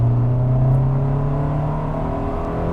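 A 1995 Honda Del Sol's single overhead cam VTEC engine holds a steady, loud rev, a continuous droning hum with strong harmonics that barely changes pitch over a few seconds.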